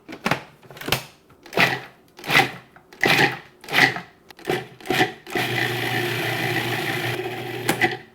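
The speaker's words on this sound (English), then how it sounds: "now we just need to pulse it till we get the right consistency" Walnut pesto with Parmesan pulsing in a food processor: about eight short, evenly spaced whirring bursts, then a sustained continuous run of the motor, loud and close.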